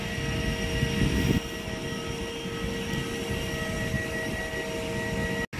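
A Cebu Pacific airliner at an airport gives off a steady, loud engine drone with a constant whine that holds across the whole stretch, with a brief rumbling swell near the start and no talk.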